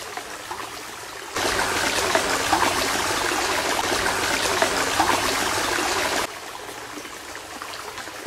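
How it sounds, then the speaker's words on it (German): Water splashes and trickles in a steady, loud, close rush for several seconds, starting and stopping abruptly against a quieter background. "vielleicht funktioniert das hier mit dem Plätschern vom Wasser ganz gut"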